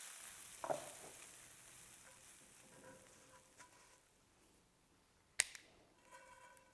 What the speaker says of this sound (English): allow the mushrooms to pan fry until golden, stirring around occasionally